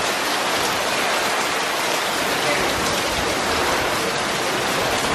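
Steady, dense rain pours down nearby in Mexico, a constant loud hiss of drops hitting surfaces with no pauses.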